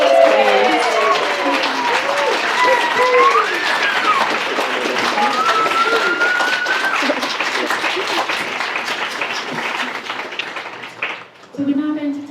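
Wedding guests at a ceremony applaud the newly married couple Damien and Kirsty right after their kiss, a dense, steady round of clapping from a nearby crowd with voices and cheers mixed in, tapering off near the end.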